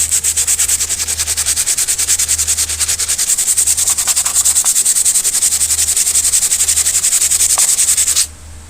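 Sandpaper of 100 to 120 grit is rubbed rapidly back and forth over the metal door panel of a 1976 square-body crew cab truck, a loud, steady rhythmic scraping that runs continuously and stops near the end.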